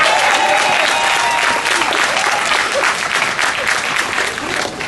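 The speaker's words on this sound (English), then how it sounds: "Give yourselves a round of applause." An audience at the first PEMA Summit gives loud, sustained applause, a dense wash of clapping that holds steady and tapers slightly near the end.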